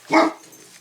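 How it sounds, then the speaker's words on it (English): A single sharp dog bark, close and fairly loud, fading quickly into quiet indoor background. "Here goes the dog again."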